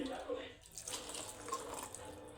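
Tap water runs fairly faintly into a sink while a container is washed, a continuous splashing flow with a little soft talk in the background.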